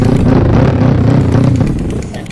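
A motorcycle in a Roblox game gets knocked over, a loud, close burst of engine rumble and clattering that fades slightly toward the end.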